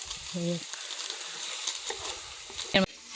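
Meat fries with spices in a village-style kitchen, giving a faint, low sizzle with light stirring. Short bursts of a voice break in at the start and again near the end.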